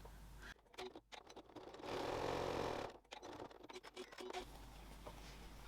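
A sewing machine topstitches waterproof canvas and cotton, whirring in short bursts with a longer steady run in the middle, close and fairly quiet, with brief pauses between stitching passes.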